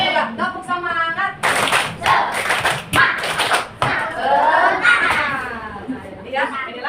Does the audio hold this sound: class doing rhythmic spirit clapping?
yes